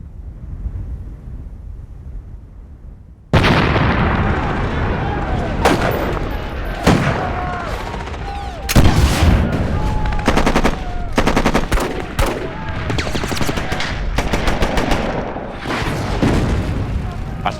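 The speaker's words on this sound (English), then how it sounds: "Artillery and mortars are exploding around us." Artillery and mortar explosions in WWII combat, a dense barrage of loud booms and rapid gunfire bursts starting abruptly after a quiet hiss, with a voice speaking under the din.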